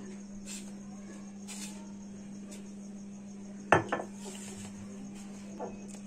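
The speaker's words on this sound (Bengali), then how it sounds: "এবার এটা আমরা দুধ দিয়ে গুলে নেব। ভালো করে মিশিয়ে দিচ্ছি।" A spoon stirs patisapta batter with milk in a bowl; faint scraping is broken by a few sharp metallic clinks partway through.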